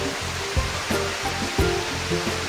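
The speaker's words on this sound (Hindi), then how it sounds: "ये था अपना मालीमुंडा वाटरफॉल" Rushing water of Malimunda waterfall in Koraput, Odisha: a steady, dense broadband roar fills the scene, close and loud, with brief surging swells and no voices.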